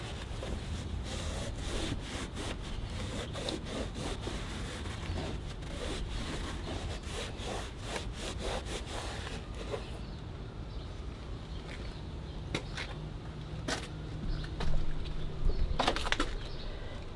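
Plastic car bumper trim being wiped off by hand after a restorer is brushed on with back-and-forth strokes, giving soft, continuous rubbing and cloth friction close up, with no talk.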